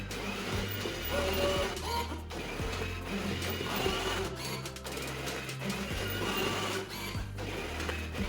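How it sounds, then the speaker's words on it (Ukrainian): Inside an NV4000 banknote acceptor, the recycling cassette takes in a note with a continuous mechanical whir, rollers and gears turning with a rhythmic, printer-like chatter up close. "Працює касета поповнення і підсвічується ресайклінг модулі, до яких потрапляє купюра."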